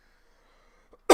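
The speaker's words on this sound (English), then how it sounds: "Had a cough there for some stupid reason" A single sharp cough bursts out close to the microphone at the very end, after a second of near silence with only faint low murmuring.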